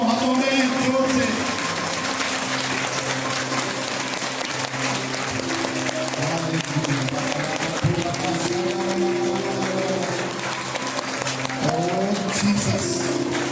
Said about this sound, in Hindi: ताली बजाओ जितनी भी ताकत हो हाथों में, जोर से